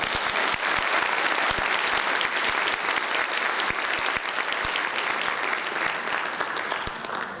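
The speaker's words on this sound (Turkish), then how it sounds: "Onlara bir alkış rica ediyorum." A crowd applauds a Turkish classical music ensemble, the Beste Musiki Topluluğu, with dense, steady clapping that fills the whole stretch at a loud, even level before tapering slightly at the end.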